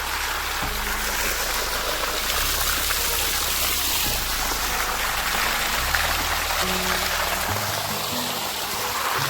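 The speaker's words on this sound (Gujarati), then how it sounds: "એ પાઇપમાંથી એટલી ગતિથી પાણી જાય છે મિત્રો બહુ સ્પીડથી પાણી આવે છે" Hot spring water rushes forcefully and steadily through a pipe at Vansda, Gujarat, a loud, unbroken gushing roar.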